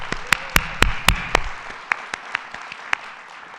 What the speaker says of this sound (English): let's have another round of applause for our incredible governor.